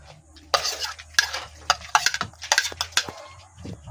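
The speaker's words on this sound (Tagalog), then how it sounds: "Pagsama-sama ko na lahat ng sangkap, sibuyas, bawang, luya, at Seli." Kinilaw ingredients of onion, garlic, ginger and chili are stirred together in a bowl, with repeated scraping and clinking of a utensil against the dish in uneven close strokes, and no speech.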